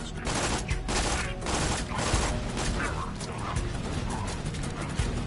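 A gun in Borderlands fires in a dense, continuous rattling stream, loud and steady throughout with no pauses.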